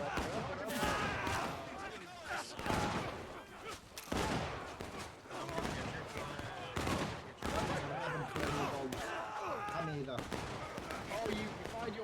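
Muskets fire in volleys during a battle with British troops in a historical war game, a dense, continuous rattle of shots and booms throughout, while someone talks excitedly over them.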